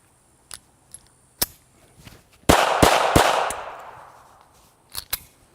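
Shots from a red-frame TFB TV Edition Kel-Tec P380 pistol fired from inside a pocket: a few sharp cracks with faint clicks around them, then one loud muffled blast with a long fading tail, and two quick pops near the end.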